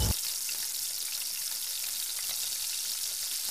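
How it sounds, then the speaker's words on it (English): Butter sizzling in a pan beneath an omelette, a loud, even, close frying hiss that holds steady throughout after a brief knock at the start. "just a little bit more butter, which I will slide under that egg"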